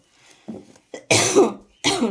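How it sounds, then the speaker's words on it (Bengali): A few short, dry coughs and throat-clearing bursts, close and fairly loud, separated by brief pauses. "আমার এই শুকনো কাশি কিছুতেই যাচ্ছে না"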